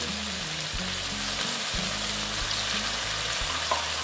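Spice paste, fried and then ground smooth, hits a hot pan while cooking a spicy chicken dish and sizzles steadily and loudly throughout, with a continuous close frying hiss and a faint scrape near the end.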